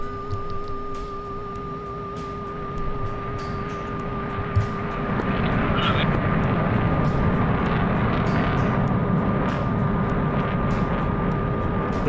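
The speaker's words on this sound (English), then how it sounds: "The MiG-29 sounds so good. One of the best sounding planes in the game." A MiG-29 jet in the DCS flight simulator drones with a steady engine roar and a constant tonal whine, growing slightly louder and fuller partway through and holding evenly to the end, with no talk over it.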